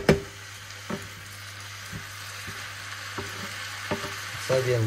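Meat sizzles steadily on high heat in a sauté pan for a vegetable bolognese, a constant frying hiss broken by several sharp utensil knocks and stirring scrapes, close and fairly quiet.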